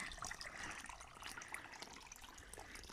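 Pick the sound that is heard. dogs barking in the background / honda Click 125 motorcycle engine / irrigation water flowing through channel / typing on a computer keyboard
irrigation water flowing through channel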